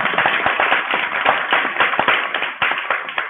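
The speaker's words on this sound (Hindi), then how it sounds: "ताली बजाओ तो प्रेम से बजाओ।" Steady clapping from a crowd at a devotional Hindu discourse, many hands beating loudly and continuously for several seconds with sharp individual claps standing out, no talk.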